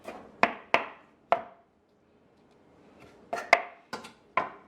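Heirloom tomatoes roughly chopped with a knife on a board, sharp close thuds, three quick strikes, a short pause, then another burst of about five.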